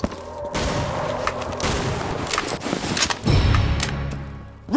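A grenade blast and bursts of gunfire in Left 4 Dead 2 on the Fallen Fortress map: a sudden loud boom opens, followed by scattered rattling shots and another heavy impact late, dense and close throughout.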